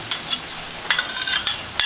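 Chopped garlic and ginger sizzle in a hot pan for a Thai-style stewed fish with pickled mustard greens, a steady close crackle broken by a few sharper bursts as the pan is stirred.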